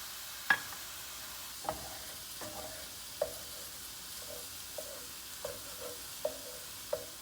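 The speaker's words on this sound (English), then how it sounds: "give it a nice little scramble, and we'll add the noodles right on top. Just gonna increase the heat a bit" Eggs scrambled in a hot pan with oil for pad thai, a soft continuous sizzle broken by about nine sharp scrapes and taps of a utensil against the pan at an uneven rhythm, no talk.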